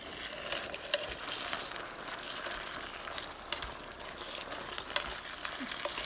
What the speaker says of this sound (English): I'm going to give this another big stir